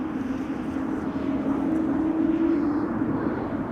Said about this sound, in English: BizJet just took off from